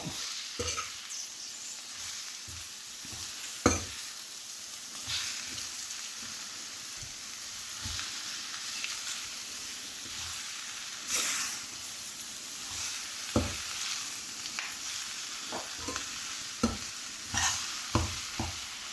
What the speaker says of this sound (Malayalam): ഒന്ന് നല്ലതുപോലെ ഇളക്കി കൊടുക്കുക